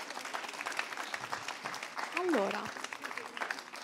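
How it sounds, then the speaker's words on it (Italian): An audience applauds at a festival closing and awards ceremony, a fairly quiet wash of clapping with a brief voice speaking over it midway. "Grazie, un applauso ancora."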